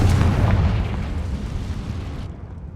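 Fiery Confringo spell blast in the Hogwarts Legacy video game, a loud booming burst that rumbles and slowly decays over about two seconds before cutting off.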